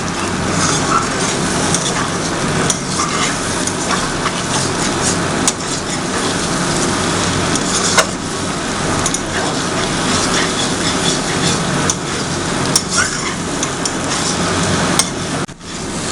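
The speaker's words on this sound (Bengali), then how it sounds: "নিয়ে এবার জিনিসটাকে নাড়াতে হবে যাতে ডিমগুলো ভালোভাবে মিক্স হয়ে যায়।" Potato, onion and egg fry in a pan while being stirred, giving a constant dense sizzle broken by sharp clicks and scrapes from the utensil against the pan.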